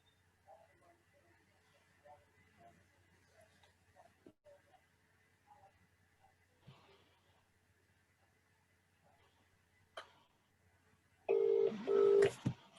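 Telephone dialing tones as someone places a call: faint, quiet clicks and tones over a low hum for several seconds, then a louder burst of paired tones near the end.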